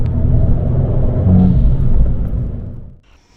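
Abarth 595 engine fitted with a pop-off air filter, giving a loud, deep, close rumble that holds steady for about three seconds before cutting off into near silence.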